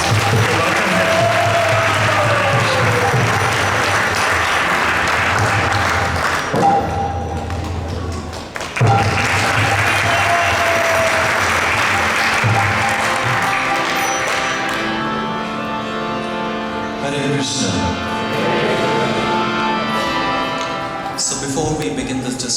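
A Sunday Feast lecture crowd at ISKCON Toronto applauds to welcome the speaker, with a sustained wash of clapping that fades midway, then a thump, a bell-like ring and a voice speaking.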